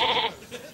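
Sheep give a short bleat, fairly close and brief, followed by a fainter wavering call; no talking is heard.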